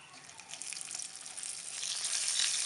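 Coarsely crushed almonds, pistachios and cashews roast in hot ghee over a medium-low flame, a faint, hissing sizzle that swells as they hit the pan and grows steadily stronger.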